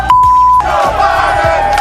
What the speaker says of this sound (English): you can hear the chants from the crowd